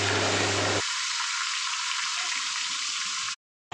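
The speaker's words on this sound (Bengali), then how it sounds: "তেলটা গরম হলে মাছের মাথাগুলোকে ভালো করে ভেজে নিতে হবে" Fish heads fry in hot mustard oil with a steady, close sizzle, louder at first and then settling to a quieter crackle before stopping abruptly near the end.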